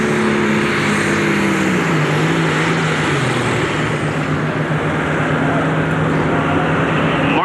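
A 10,000-pound pro stock pulling tractor roars at full throttle during a tractor pull at the 1992 Ohio State Fair, a loud continuous engine drone whose pitch slides downward as the run goes on.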